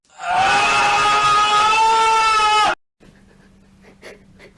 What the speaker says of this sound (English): Then an ear-piercing scream.